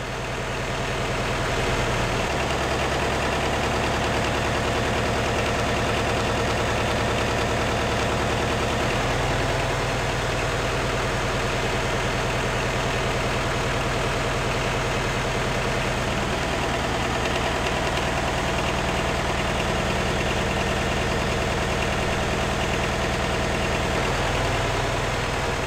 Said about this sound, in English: Listen to the sound of a test on a properly operating engine.